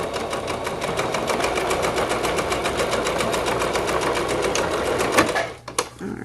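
A sewing machine running a straight stitch and back stitch on a slouchy beanie, a steady close whirring hum with a rapid regular needle beat that slows and stops near the end.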